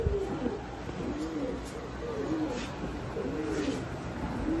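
Pet pigeons coo softly in repeated low rolling phrases, close by, over a faint steady background hiss, with no talking.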